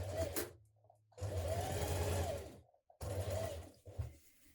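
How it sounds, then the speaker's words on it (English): Domestic sewing machine running bursts of straight stitching along a blouse seam line, three steady whirring runs separated by short pauses, close and loud with no talk. "We're going to do a horizontal line of stitching along your stitching line here."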